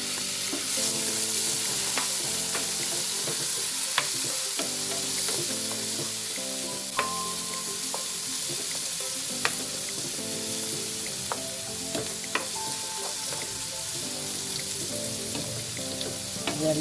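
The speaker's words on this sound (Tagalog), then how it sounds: "lutuin lang muna natin yung ating kamatis hanggang sa madurog na siya" Four large chopped tomatoes frying in a pan, a loud, steady sizzle throughout, with regular scraping taps of a spoon stirring and a faint background melody.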